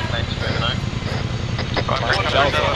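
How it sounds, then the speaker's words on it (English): A Chinook twin-rotor helicopter in ArmA 3, a loud, steady throbbing engine and rotor drone filling the whole stretch, with a voice talking over it. "Alright guys, it's the Chinook."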